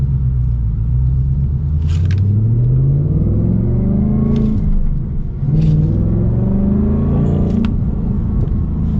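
A 2025 Ford Mustang RTR with a manual gearbox, an 800-horsepower engine and an X-pipe exhaust rumbles loud and close from inside while driving, its deep exhaust note rising and falling through several rev swells and shifts.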